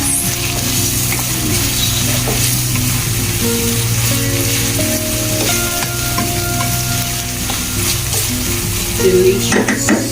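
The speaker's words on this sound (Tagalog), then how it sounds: "lutuin natin ang kamatis hanggang siya ay magiging like paste." Tomatoes frying and sizzling in a pan, cooked down toward a paste, with steady stirring scrapes and occasional utensil clinks against the pan, loud and close throughout with no talking.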